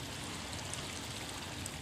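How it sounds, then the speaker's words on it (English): A boiling sulfur spring at Boiling Springs Lake in Lassen Volcanic National Park gives off a steady, soft hiss and gurgle of bubbling water, unbroken and fairly faint, with no voices. "It's a sulfur spring of boiling water."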